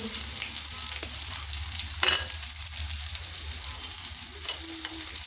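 Oil sizzles steadily in a frying pan as crushed peanuts go into a spicy chili and yogurt dish, a constant bright hiss with a soft clatter partway through, close and without talk.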